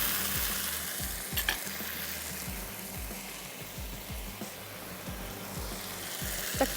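Boiled rice being stirred into a pan of frying masala with soy sauce, repeated close scraping strokes of a spoon over a steady sizzle, with no voices.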